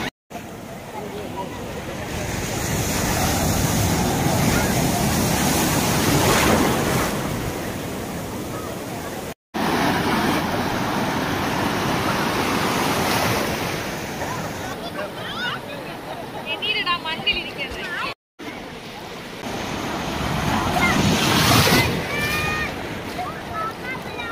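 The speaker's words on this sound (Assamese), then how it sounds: "বহুত ডাঙৰ ডাঙৰ ঢৌ আহে বিৰাট ডাঙৰ ডাঙৰ ঢৌ" Large ocean waves break and wash ashore at Radhanagar beach on Havelock Island in the Andaman Islands, rising and falling in loud, surging roars, with voices talking through the surf.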